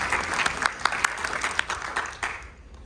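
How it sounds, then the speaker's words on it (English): Audience at a congressional district town hall applauds a Vietnam veteran in the crowd, a steady wash of many hands with a few sharper claps standing out, fading away near the end. "Round of applause for"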